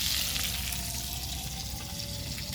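Shrimp and green chilies fry in hot oil for a bitter gourd dish, giving a steady, dense sizzle and crackle that stays even throughout with no talking.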